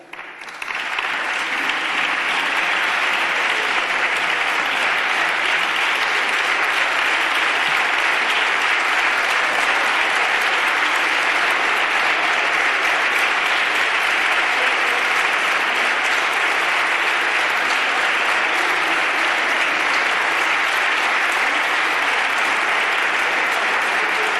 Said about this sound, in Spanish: Esta era la votación, los aplausos finales